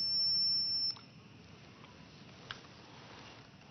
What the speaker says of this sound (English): We can use a circuit tester to show that it conducts electricity.